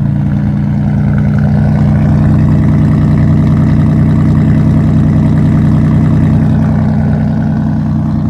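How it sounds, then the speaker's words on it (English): A straight-piped 1995 Chevy Beretta Z26 engine idles after a cold start close by, loud and raspy with a deep, steady rumble and no talking. "That's a cold start."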